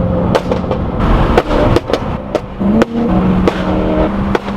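A loud BMW E90 M3 engine idles roughly while sharp exhaust backfire pops crack out irregularly, several sudden bangs close by.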